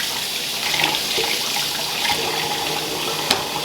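Tap water runs steadily over apples being rinsed under a kitchen faucet, a continuous close hiss and splash with small bumps of handling.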